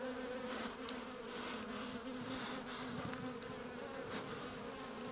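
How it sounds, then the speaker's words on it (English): A dense, steady buzz of many honeybees at a hive close by during an inspection, droning continuously with faint shifting pitches and no voices. "Just trying to get the bees off the bottom there."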